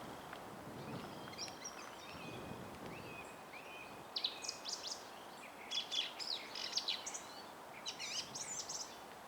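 Birds sing and chirp in the woods of a chalk-pit nature reserve, with bright calls and trills arriving in bursts, moderately near, over a quiet outdoor background.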